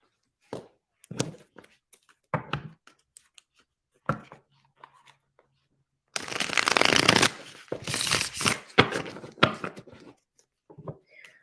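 Tarot cards are handled and shuffled close up: a few soft taps and slides, then a long riffling burst, followed by scattered quieter card sounds.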